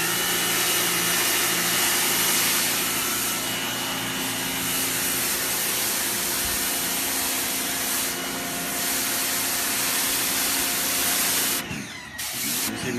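Ivation electric pressure washer spraying water through a 40-degree nozzle to clear mud, a steady loud broadband hiss that runs unbroken for about eleven seconds before cutting off abruptly.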